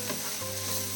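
Grated coconut mixture frying in a pan, stirred with a steady, close, hissing sizzle that carries on evenly through a brief moment, no voices.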